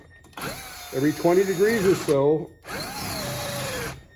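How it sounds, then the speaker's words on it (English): A power drill whines up and down as it bores through a rubber bushing on a car's rear trailing arm, then runs at a steady pitch after a brief pause; a voice can be heard at the start. "around the inside of the bushing, you drill all the way through"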